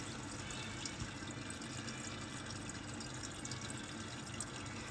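Water fills an Urban Cultivator growing machine after a PCB replacement, a steady, even rush of running liquid like a tap filling a tank, close and constant for the whole stretch with no voices.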